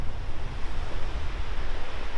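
Pacific Ocean surf at Aliso Beach in Dana Point, a steady loud wash of breaking waves and rushing water, close and dense, with wind buffeting the microphone and no voices.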